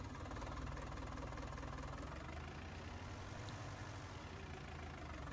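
A tractor engine in Farming Simulator idles with a constant low, rumbling drone that holds steady throughout at moderate loudness, with no talking.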